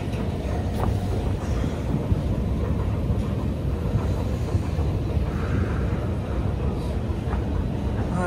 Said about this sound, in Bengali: মেট্রো ওই তো মেট্রো